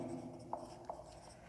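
Pen writing out trigonometry working for a right-angled triangle on paper, faint close scratching with two brief stroke taps, quiet and alone.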